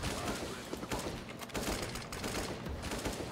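Rapid bursts of AK rifle fire in Counter-Strike: Global Offensive on the Cache map, dense and loud, with brief gaps between sprays.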